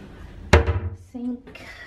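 A kettle and cups in a hotel room knock together as they are handled, a sharp ceramic clink followed by a brief rattle, close and loud, with a voice speaking briefly.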